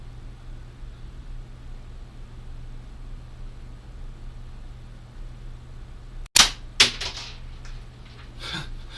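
Gunfire in a video game: after a long stretch of steady hiss, two sharp shots crack out close together, followed by fainter clicks.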